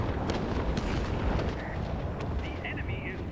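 Rocket strikes hit a base complex in World of Warplanes, a continuous dense rumble of explosions and bursts with a crackling roll of impacts, loud and sustained, layered under game sounds.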